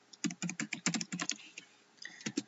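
Quick bursts of keystrokes on a computer keyboard as data is entered into a form. The clicks are close and fairly soft, with a brief pause before a few final taps.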